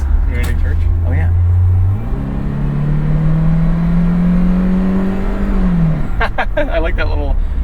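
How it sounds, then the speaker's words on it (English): Steady engine whir and rising whine from a 1991 Nissan Figaro while driving, a low drone that steps up in pitch partway through, with people talking over it near the end. "I like that little whir or that whine"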